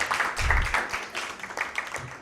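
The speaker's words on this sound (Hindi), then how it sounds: "आपके लिए भरपूर तालियां।" An audience at a Christmas Bible quiz applauds in a brief, moderately loud burst of clapping that thins out toward the end.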